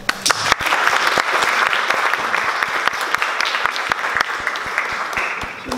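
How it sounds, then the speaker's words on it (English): A large audience applauds steadily at a university Muay Thai demonstration and Wai Kru ceremony, dense sustained clapping with sharp individual claps standing out. "round of applause."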